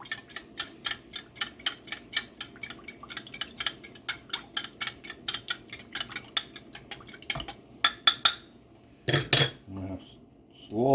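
A utensil scrapes and clinks rhythmically against a metal pot while beef stew with cornstarch is stirred, a quick series of close ticking strikes that speeds up into a few louder knocks near the end.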